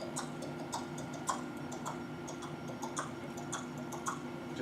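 Hooves of a horse wearing horseshoes clop on a cobblestone street in an imitation. The clicks are quick and light, repeating steadily at a trotting rhythm. They are faint and come with no talking.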